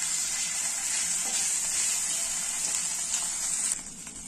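Ginger paste sizzles and fries in hot spiced oil in a pan, a steady close hiss that drops slightly near the end as the frying settles.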